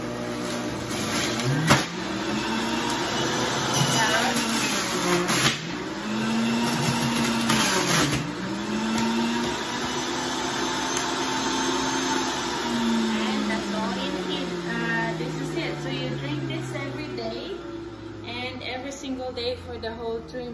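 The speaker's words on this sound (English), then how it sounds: "I have my juicer here. Let's get started. I'm just gonna put my half a lemon here, and it's gonna make a lot of noise." An electric juicer runs while pressing half a lemon, a loud motor whir with rising and falling pitch sweeps as the fruit is pushed down, going on for about twenty seconds before easing off.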